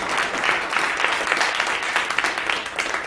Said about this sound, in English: A round of applause for that response